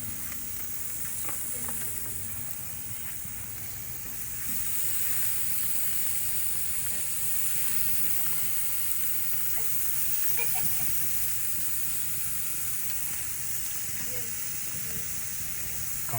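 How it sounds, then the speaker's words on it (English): A steak and fajita meat sizzle on a grill at a Tex-Mex carne asada, giving an even, close, continuous hiss and crackle with no break. "So I'm throwing everything in the grill now. I threw in the steak, the fajita."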